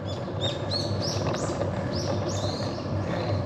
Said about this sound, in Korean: 새소리를 들으면서 헤어핀을 올라가는 지미가 솔솔합니다